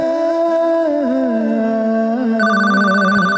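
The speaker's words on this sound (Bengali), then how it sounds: "ফোন বাজতেছে" A phone ringtone plays at a brick kiln, a looping electronic melody that steps through pitches, joined midway by a steady higher beeping tone, loud and close.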